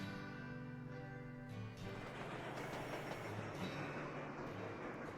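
Trains running in the transport-management game Sweet Transit, a steady rolling rumble with layered mechanical hum and faint clatter, continuous and fairly loud without speech.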